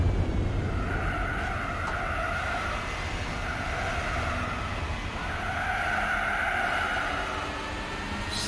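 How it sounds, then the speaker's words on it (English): A car in Gran Turismo 4 squeals its tires under hard acceleration, the tones wavering steadily for several seconds over a constant loud engine roar. "Slam down the throttle and get it going"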